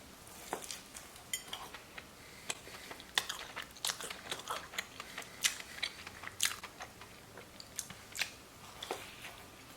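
Someone bites into and chews a vegan cinnamon sugar donut, with soft irregular crunching and mouth sounds close to the mic, quiet and alone with no talking.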